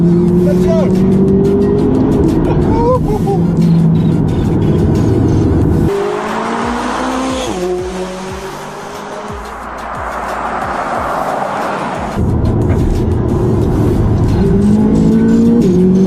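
A McLaren 570GT sports car is driven hard, its engine loud and close with rising, climbing revs through several gear changes and a brief lull before the pull resumes, over road and tire noise.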